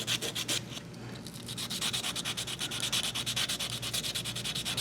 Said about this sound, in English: fold the sandpaper and make an edge like this. Allows me to kind of work it along the contours